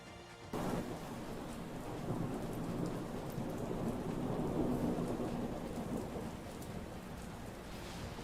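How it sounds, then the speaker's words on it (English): Heavy rain and rumbling thunder in a college football video game, a Rutgers Scarlet Knights dynasty, start suddenly after a brief pause and continue as a dense, steady downpour with low rolling thunder, with no talking. "And we got our first rain game."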